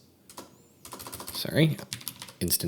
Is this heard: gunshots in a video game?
no